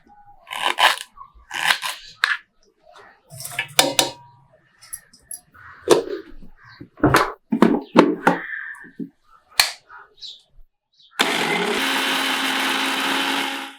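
A mixer grinder blends spinach, ginger, green chillies, garlic and cumin into a paste. After scattered clicks and handling sounds, a loud, steady whirring roar starts close by near the end and runs until the end.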